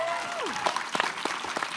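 Live Q&A audience applauding an actor, a burst of clapping with scattered sharper claps and a faint voice at the start, moderately loud and close.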